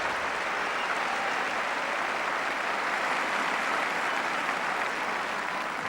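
Sustained applause from the Wimbledon crowd during the fifth set of the 1977 semi-final between Bjorn Borg and Vitas Gerulaitis, a dense, even wash of clapping that holds steady throughout without voices.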